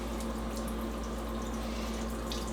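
A kitchen tap runs steadily while hands are rinsed during biscuit making, a close, even wash of flowing water with faint splashes and no talk.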